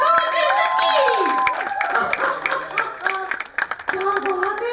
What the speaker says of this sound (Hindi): जोरदार तालियों के साथ आरजे लकी।